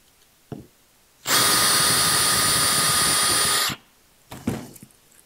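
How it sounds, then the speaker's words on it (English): Countersink bit driven by a power drill cuts a countersink into sheet metal, one steady loud whining burst of about two and a half seconds, with faint handling clicks before and after. "So we get a nice, even countersink all the way around."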